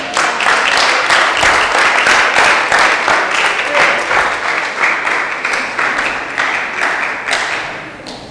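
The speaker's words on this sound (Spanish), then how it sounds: "¿Le da un aplauso al Señor?" A church congregation claps loudly for about eight seconds, many hands in a brisk, steady rhythm with heavy thumping beats close by, tapering slightly toward the end.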